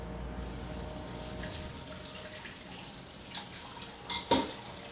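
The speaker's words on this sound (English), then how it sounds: "Let's wash these dishes quick" Dishes washed in a kitchen sink under running tap water, a steady wash of water with a few clattering knocks of plates and cutlery near the end, moderately close and without talk.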